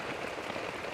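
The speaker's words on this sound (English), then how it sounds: "you don't see rain like this in the UK" Heavy monsoon rain pours down in the jungle, a dense, even hiss of drops over a brief moment with no voices.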